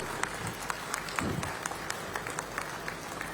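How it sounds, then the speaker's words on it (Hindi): Applause from an audience at a stage event in Chhattisgarh, a sustained patter of many hands clapping at moderate distance, fairly soft and even, with no talking over it. "तालियां जोरदार होनी चाहिए"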